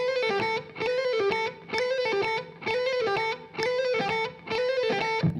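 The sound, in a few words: distorted electric guitar burst practice, seven-note phrase at 130 bpm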